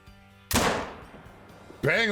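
A single sharp rifle shot cracks at a shooting range in a weapon showcase and its echo rings out briefly, followed by the start of a man's speech.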